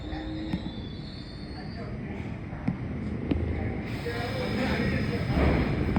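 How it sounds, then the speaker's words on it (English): A New York subway train pulls into Kings Highway station, a rolling rumble building over several seconds with faint wheel squeals and clanks echoing along the platform. "Alright, the train just came."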